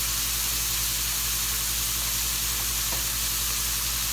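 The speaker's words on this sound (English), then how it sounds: "Sizzle, sizzle, sizzle." Filet mignon searing in a cast iron skillet gives a constant, loud, broadband sizzle that holds evenly from start to finish, with a faint low hum beneath and no talking.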